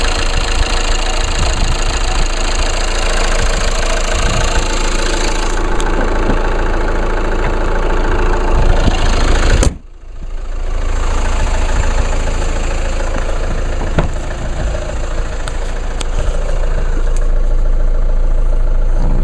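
A 2014 Chevy Cruze engine idling, a loud, steady close hum with a faint knocking texture, briefly dipping at one point before settling back into the same even drone.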